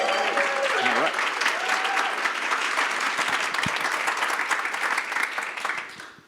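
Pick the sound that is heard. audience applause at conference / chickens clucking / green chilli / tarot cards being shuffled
audience applause at conference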